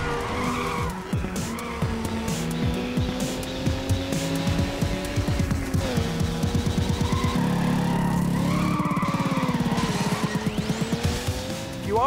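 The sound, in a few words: cars racing and skidding in a driving video game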